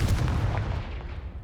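A Confringo fire spell bursts in Hogwarts Legacy as a deep, booming blast whose low rumble rolls on and slowly fades, with no one talking.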